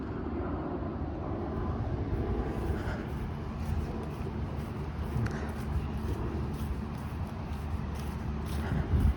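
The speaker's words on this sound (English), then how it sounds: "there I see an airplane over there" A steady low engine rumble from an airplane passing overhead at a distance, fairly loud and continuous for the whole stretch.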